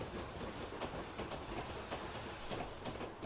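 Train running on rails in a Western Lines of Scotland train simulator, a steady rolling rumble with rhythmic clickety-clack wheel beats over the track joints, moderately loud and continuous, no talking.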